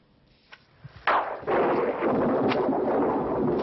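Thunder from a storm rolling over the Savagnin vineyards at Château-Chalon in the Jura, a sudden loud crack followed by a long, heavy rumble that stays broad and sustained, with no voices.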